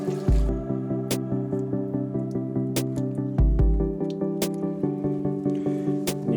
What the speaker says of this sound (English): just fire up the water again and clean all this out